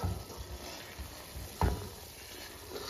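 Mysore Pak mixture is stirred in a pan over a low flame, with a faint steady sizzle and soft scraping strokes that repeat every half second or so, plus one sharper scrape partway through.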